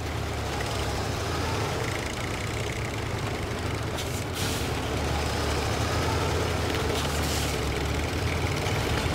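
An Albatross 6x6 truck idles in the game Expeditions, its engine giving a steady, loud, low rumble throughout, with brief hissing bursts rising above it.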